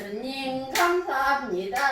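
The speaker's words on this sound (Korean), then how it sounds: "예수님 감사합니다 하고 박수도 치고 막 해야지" Church congregation members clap their hands during a healing testimony service: a couple of sharp claps stand out over a voice that talks continuously in the foreground.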